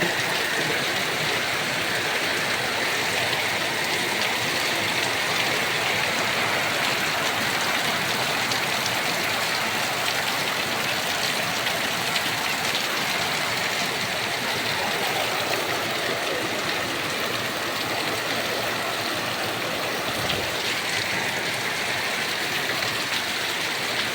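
Heavy rain pours steadily with wind, a dense continuous hiss that stays loud and even throughout with no voices.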